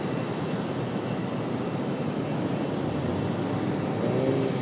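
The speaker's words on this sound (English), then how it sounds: "there you go, the American 777" An American Airlines Boeing 777 jet at Raleigh-Durham International Airport gives off a steady, broadband engine roar, continuous and moderately loud throughout with no voices.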